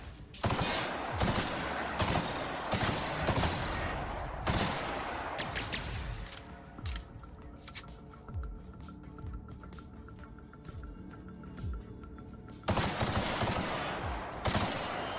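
Automatic weapon firing in The Outer Worlds, several rapid bursts in the first six seconds, a quieter stretch with faint shots, then another loud burst near the end.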